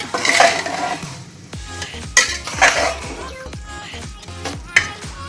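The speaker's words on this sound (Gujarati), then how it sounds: "આપણે ચોખાને પણ મિક્સ કરી લઈએ આમાં." Rice being stirred into a pot of khichdi, with repeated close scraping strokes of a spoon against the pot and a faint sizzle underneath, rising and falling in uneven bursts.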